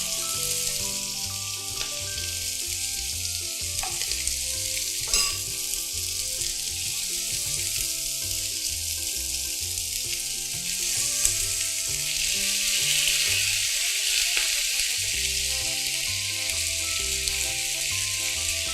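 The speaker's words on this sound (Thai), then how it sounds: "เราจะทอดให้สุกเหลืองทั้งสองด้านนะคะ" Chicken pieces for teriyaki frying in a pan, a steady bright sizzle holding throughout with faint clinks and movement, no talking.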